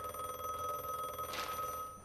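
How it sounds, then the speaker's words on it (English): A telephone rings in a video game, a steady electronic bell tone that holds throughout, alone and fairly loud, with a brief brighter burst midway. "The phone was ringing."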